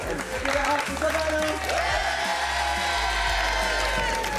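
A studio audience at a Big Brother UK spin-off show applauds and cheers loudly and steadily, with whoops rising above the dense clapping throughout.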